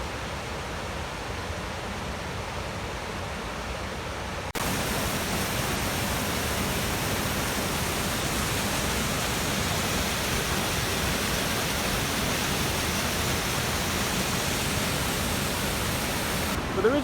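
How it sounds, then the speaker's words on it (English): A waterfall in the Welsh mountains roars as a steady, broad rush of falling water, continuous and even, growing louder partway through as the listener moves closer. "It's like one never-ending waterfall."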